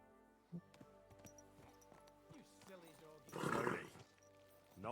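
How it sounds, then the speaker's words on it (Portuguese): An agitated horse in the video game Kingdom Come 2, with scattered snorts and hoof clops followed by a louder burst of whinnying or snorting, set among game sounds and a voice talking. "Por que o cavalo tá tão agitado assim?"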